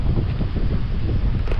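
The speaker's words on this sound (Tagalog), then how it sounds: "Lakas ng hangin, no?" Strong wind buffets the microphone in a steady, loud rumble for the whole moment, with no voices, in the town of Mauban.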